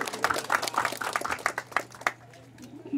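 Scattered applause from a modest audience at a municipal chamber session in Carnaíba, welcoming councillor Antônio Venâncio; irregular claps fade out after about two seconds, leaving a quiet room with low hum.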